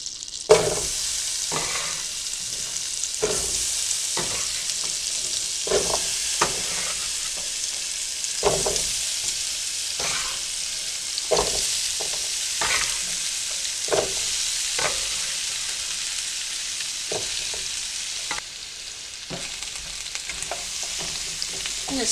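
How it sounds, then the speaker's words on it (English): Apples and onions browning in butter and oil in a pan, a steady close sizzle broken by frequent scraping stirs at an uneven rhythm, with no talking. "start browning the apples and the onions"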